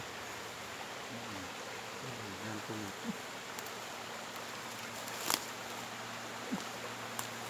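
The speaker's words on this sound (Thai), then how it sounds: "เสียงน้ำไหล" A mountain stream in a South Korean forest flows with a steady, soft rushing hiss. Faint footsteps and a few small knocks sound nearby.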